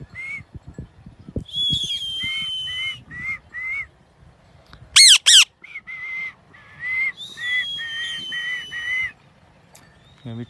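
A pet parrot calls in repeated short bursts with whistle-like tones and a few sharp shrill squawks, fairly close and loud against a quiet room with faint background noise.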